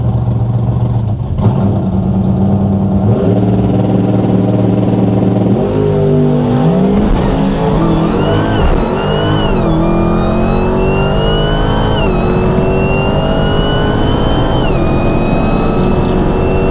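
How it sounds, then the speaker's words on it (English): A race car's engine roars close by at a racetrack, loud and unbroken, its revs climbing and shifting pitch in long sweeps as it runs alongside another car. "Up against a race car, it's always fun."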